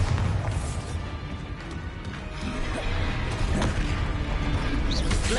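Hogwarts Legacy gameplay spells Confringo and Bombarda blasting in a class setting, a continuous clatter of crashes, booms and mechanical rattles with no clear pauses.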